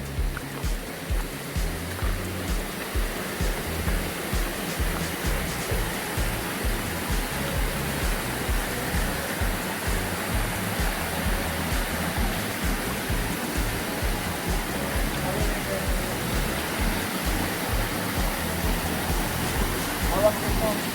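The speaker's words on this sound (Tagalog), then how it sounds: "Undiscovered pa yung mga waterfalls dito." Steady broadband rush of an undiscovered waterfall in Cebu, heard up close as continuous roaring water with a pulsing low rumble throughout.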